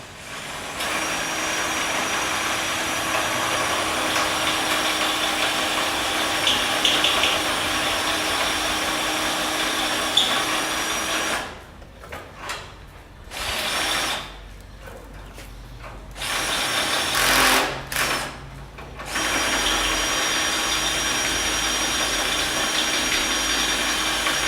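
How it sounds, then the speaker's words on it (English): A power drill set in low gear with the clutch turned down whirs steadily through a long run, pausing several times and restarting, while working on a custom rear fuel tank install for a 67-72 Chevy. "Put the drill in low. Turn the clutch down a few clicks."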